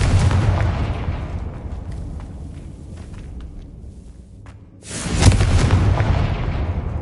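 Confringo fire spell in Hogwarts Legacy going off as a loud, booming blast at the start and another heavy explosive burst near the end, with a rumbling, quieter stretch between.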